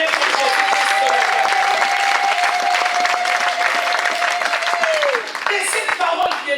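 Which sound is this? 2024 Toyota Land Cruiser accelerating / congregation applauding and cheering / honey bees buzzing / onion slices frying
congregation applauding and cheering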